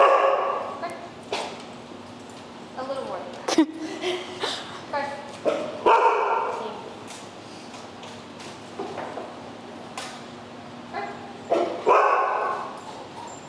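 A dog barks and yips repeatedly in short bursts nearby, with people talking in between.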